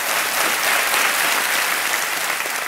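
Studio audience on the KBC game show applauding steadily, a dense sustained wash of clapping with no voices over it.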